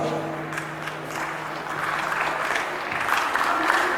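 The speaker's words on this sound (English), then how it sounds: "Please give them a round of applause." Audience at a school investiture ceremony applauding, a broad wash of clapping swelling and growing louder over the seconds, heard from within the crowd.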